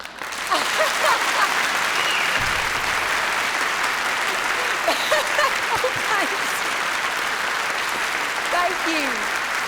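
Sustained applause from a large audience in Elon University's Whitley Auditorium greets a former Miss North Carolina speaker: dense, steady clapping throughout, with scattered voices and a few whoops rising over it.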